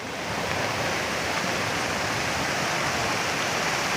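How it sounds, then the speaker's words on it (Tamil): Loud, steady rushing of flood water after heavy rain, a continuous broadband roar with no pauses, close and powerful, like a flooded channel surging past. "எப்பேற்பட்ட தண்ணி வந்து எப்படி அடிச்சும் போகுது பாருங்க"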